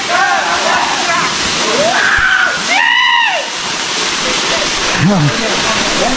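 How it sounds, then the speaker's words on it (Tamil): Water from the Kuttu Patti waterfall near Natham, Dindigul, rushes in a loud continuous roar, with voices and shouts rising over the steady splashing flow. "இங்கே வந்து சிங்கிள் அருவி. இது ஒன்று தான்டா, இது ஒன்று தான்."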